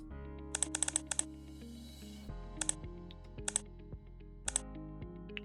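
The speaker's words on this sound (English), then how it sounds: "Then you'll turn it 7 clicks towards the right." Quick bursts of sharp clicks from a GE washer's control dial being turned, several clicks in a row, then pairs of clicks spaced apart, close and crisp over a steady low hum.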